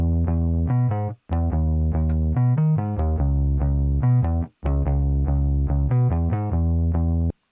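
Bass guitar with its DI signal blended with amp sound, playing a steady line of sustained low notes separated by brief pauses, clean and upfront with no talking.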